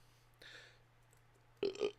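A short throaty burp at close range, split into two quick pulses near the end, following a brief breathy noise in an otherwise quiet moment.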